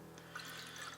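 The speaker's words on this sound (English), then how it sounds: "So we pour our water in there." Water poured into a glass of ouzo, a Greek anise liquor, giving a soft, steady trickle and light splashing that runs through the whole second over a faint low hum.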